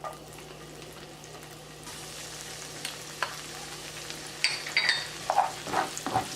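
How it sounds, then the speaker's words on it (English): Onions and pepper sizzle in butter and avocado oil, a soft continuous frying hiss with occasional sharper crackles and pops growing busier toward the end, no voices. "I added my butter, my onions, and my pepper. So all I want to do is cook this for a couple minutes"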